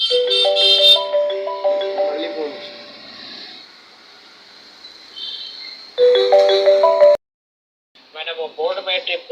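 A mobile phone rings with a bright, repeating electronic melody, two bursts separated by a lull, then a brief silence before more tonal chirping; close and fairly loud.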